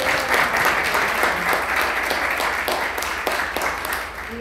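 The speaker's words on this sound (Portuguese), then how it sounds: "uma salva de palmas para Vasconcelos Sobrinho" Loud, sustained applause from an audience at an environmental council meeting, steady dense clapping filling the whole stretch without letting up.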